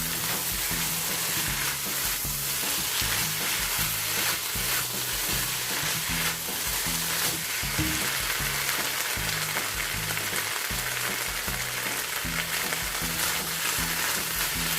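Chopped chicken gizzard and liver sisig frying in a pan while being stirred, a continuous dense sizzle under repeated scraping and tossing strokes, with no talk.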